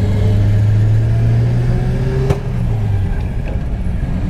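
A 1937 Buick runs with a steady low engine drone and quiet exhaust, holding an even idle hum with a brief tick partway through before settling slightly lower.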